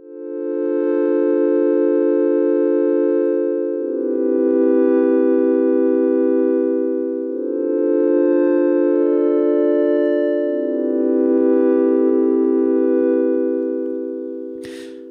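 A sustained subtractive synth pad with a filter envelope plays four long chords, each swelling in and easing off, with a smooth, hollow tone and a brief click at the end.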